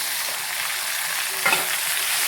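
Finely chopped tomatoes fry with onions in a pan, giving a loud, steady sizzle with a brief stirring scrape partway through.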